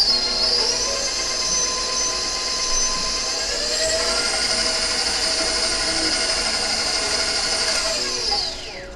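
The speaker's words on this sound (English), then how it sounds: "I'm gonna kind of give it a little pulse just to mix my dry ingredients up a little bit" A food processor mixes the dry ingredients for gluten-free gingerbread cookies, including baking soda and brown sugar, its motor holding a steady, high whine for several seconds before winding down.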